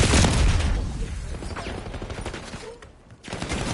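Call of Duty firefight with rapid bursts of automatic gunfire and scattered shots, loud at first and then thinning into sporadic distant fire before a brief lull and a fresh volley.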